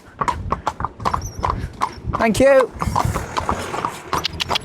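Horse hooves clip-clop at a trot on a ride-out, close and steady under men chatting, with a brief whinny-like squeal midway.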